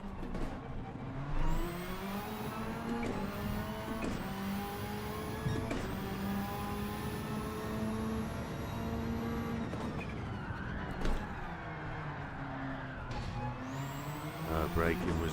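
A race car engine in Gran Turismo 7 whines through repeated gear changes, rising in pitch and then dropping at each shift. It runs loud and continuous, with a voice talking over it.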